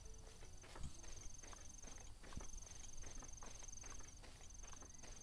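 A horse walks in Zelda: Breath of the Wild, its hooves giving a steady, soft clip-clop beneath a high insect-like chirping from the game's surroundings.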